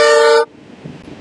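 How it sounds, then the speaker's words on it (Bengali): A diesel locomotive's WP40 horn sounds on a Vistadome train running from NJP to Alipurduar through the Dooars: one loud, brassy blast lasting about half a second, then a quiet rumble. "এই ডিজেল ইঞ্জিনের হর্নটা মানে না এই WP40 হর্নটা আমার লাগে"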